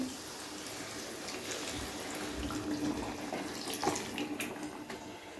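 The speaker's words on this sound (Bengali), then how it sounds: "এবারে এখানে আমি সামান্য পরিমাণে একটু জল অ্যাড করে দিচ্ছি।" Water is poured into a cooking pot for a vegetarian curry, a steady splashing pour with trickling that holds for several seconds at moderate level, with no talking over it.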